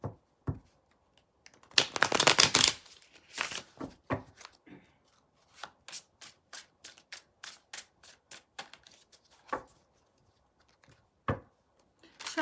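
Tarot cards are shuffled by hand during a reading, starting with a long dense riffle and then settling into a string of separate crisp taps and slaps, close and quiet between strokes.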